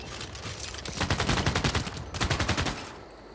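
Rapid bursts of artillery fire in Civilization 6 come as fast rhythmic volleys of sharp booms, two main clusters close together, then fading away at the end.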